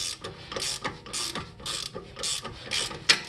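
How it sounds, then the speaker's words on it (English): A ratchet wrench tightens a rear trailing arm bushing bolt on a BMW E46, making repeated close, crisp bursts of clicking in a steady back-and-forth rhythm with no speech. "I'm going to snug it down so it's good and tight"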